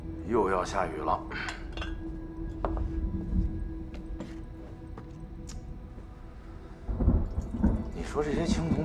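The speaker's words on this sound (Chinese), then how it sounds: "又要下雨了。" Rolling thunder rumbles low and steadily under a light patter of rain as a storm approaches, with clinks of dishes and occasional knocks nearby and a swell of louder rumble near the end.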